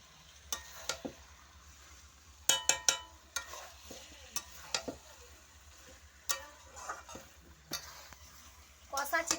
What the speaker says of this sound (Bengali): সব দিয়ে দিলাম, এবার একটু কষিয়ে নেবো।